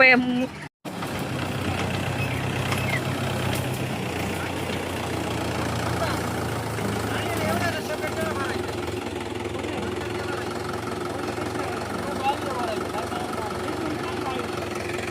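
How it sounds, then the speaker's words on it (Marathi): A diesel tractor engine idles with a steady low rumble and knocking chug, close and continuous, in a sugarcane field, while people talk over it. "खत भरण्यासाठी ट्रॅक्टर आले 2"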